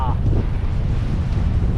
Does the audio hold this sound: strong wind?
yes